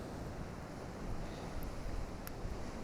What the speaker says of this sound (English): I'm also interested in how the waves kind of crash over this bit of rock as well